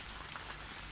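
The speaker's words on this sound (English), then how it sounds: "So it started to rain" Steady rain falls outdoors at a garden koi pond under construction, a dense continuous hiss of drops on surfaces with no talk.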